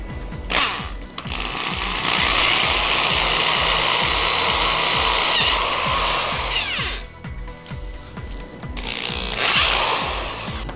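Power drill boring a hole through a small tripod part, running loud and continuous for several seconds with a grinding, rattling whine, briefly easing off before spinning up again.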